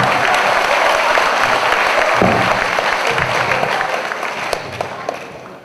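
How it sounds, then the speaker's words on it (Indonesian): Seated audience gives Mas Irwan a lively round of applause, many hands clapping together at close range before the clapping gradually softens and trails off. "tepuk tangan untuk Mas Irwan"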